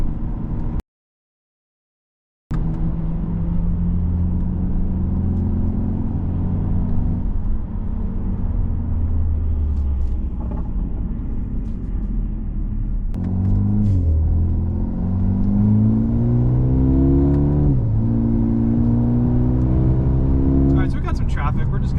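A 2020 Mercedes-Benz A35 AMG drives on a road, its engine humming and rising in pitch through several upshifts, with a brief dropout near the start and a steady, fairly loud rumble.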